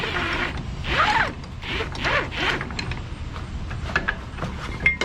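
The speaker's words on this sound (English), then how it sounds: "Put your strap in like this and get the zipping." Ratcheting zips from a bubble bee strap winder reeling in a cargo strap at a truck terminal in Des Moines, Iowa, in several quick repeated bursts with a creaky mechanical edge, close up.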